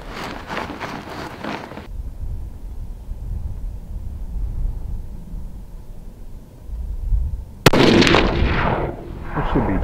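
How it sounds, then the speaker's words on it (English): Two loud rifle gunshots fired over a Garmin Xero C1 Pro chronograph, one sharp blast at the start and another near the end, each followed by a booming outdoor report and rumbling decay. "So we're just gonna shoot."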